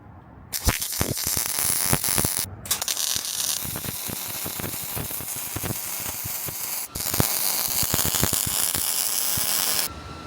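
MIG-style welding on a steel DIY winch bumper for a third-generation 4Runner: a close, loud, steady crackling hiss running in long stretches, broken by two brief pauses.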